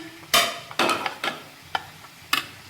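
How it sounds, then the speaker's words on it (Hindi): Whisking yogurt in a bowl: a handful of quick, irregular scraping and clinking strokes, close and fairly crisp, separated by short pauses, with no voices. "ये हम दही को फेंट लेंगे"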